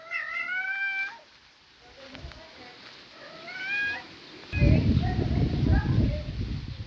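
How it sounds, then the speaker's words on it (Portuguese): A cat meows several times in drawn-out, whiny calls, separated by pauses, with rustling noise underneath near the end. "Gatos."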